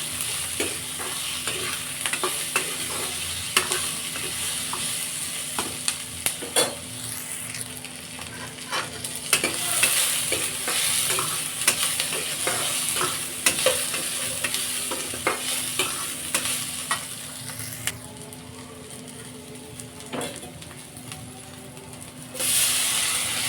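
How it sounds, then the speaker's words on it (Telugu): Peanuts, cumin and a piece of ginger being stirred and sizzling in a hot pan while making peanut chutney, with a steady frying hiss broken by repeated scraping stirs, close and continuous, no talking. "ఇంకా చిన్న అల్లం ముక్క వేసి ఒకసారి మిక్స్ చేసుకుందాం"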